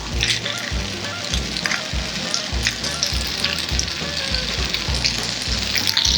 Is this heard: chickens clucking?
no